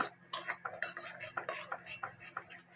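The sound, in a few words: spice paste being sautéed in a pan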